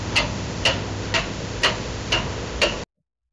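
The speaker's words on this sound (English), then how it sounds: "Timer ticking." AI-generated timer ticking from the AudioGen model: a steady mechanical tick about every half second, six ticks over a faint low hum, then it stops abruptly.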